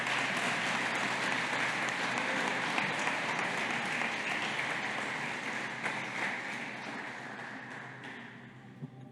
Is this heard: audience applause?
yes